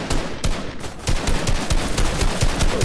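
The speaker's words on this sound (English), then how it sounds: "Somebody trying to shoot me." Repeated bursts of gunfire in a multiplayer PS4 shooter game, sharp cracks in an irregular rapid sequence over a steady game-noise bed, fairly loud and close.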